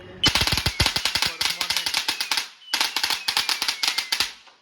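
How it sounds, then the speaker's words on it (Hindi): Remote-controlled firecrackers burst at Diwali in Aligarh, two loud, close, rapid strings of sharp cracking pops with a brief pause between them. "रिमोट है, जब मर्जी पटाखे फोड़ दो।"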